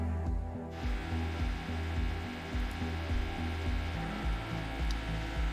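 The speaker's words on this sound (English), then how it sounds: "The neighbors are drilling while I'm live streaming." A neighbor's drill comes through a wall as a muffled, rhythmic grinding drone, repeating in regular pulses for several seconds, fairly faint and distant.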